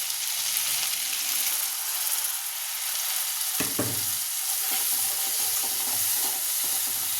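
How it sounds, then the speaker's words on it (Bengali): Spice masala sizzles steadily in a hot pan for aloo dum, with a sudden louder hiss and spatter as a little water goes in partway through, then the frying settles back to a constant crackle. "মশলাটা আমার অনেকটাই ভাজা হয়ে গেছে, এবার একটু সামান্য আমি জল দেবো"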